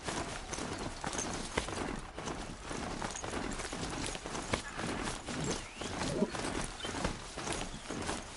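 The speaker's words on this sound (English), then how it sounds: "Horse." Horse hooves clip-clop steadily in the video game Horizon Zero Dawn, a continuous rhythmic walking gait under dense game music and ambience, fairly close throughout.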